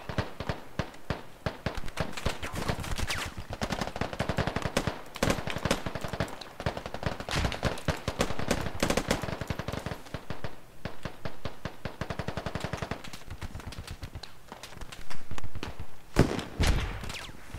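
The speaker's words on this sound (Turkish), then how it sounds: "Ya abi friendly atıyor ya 50 kalibre ağzına." Rapid bursts of .50 caliber machine gun fire in the military shooter game Squad, loud and close, firing in long sustained strings with brief gaps and heavier blasts near the end.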